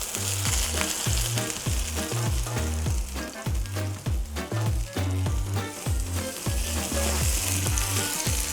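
Homemade sausage patties sizzle loudly in a pan, a dense continuous frying hiss with rhythmic lower thumps and clatter throughout, close up and alone.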